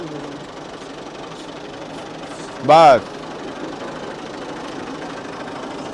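A farm tractor's engine idles with a steady, moderately loud low chug at close range while people talk over it, and a brief loud voice burst interrupts midway.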